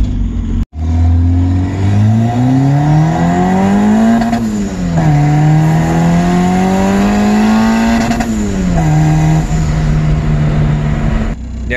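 A turbocharged Honda D16 engine with Vitara pistons, running at 9 psi of boost, accelerates hard in a loud, sustained climb that rises twice, drops back at each shift, and then holds steady, with no talking.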